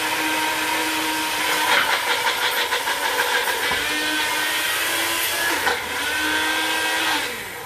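A blender whirs steadily through garlic and water, its motor holding a loud, even drone that wavers slightly as the contents churn, then drops off near the end.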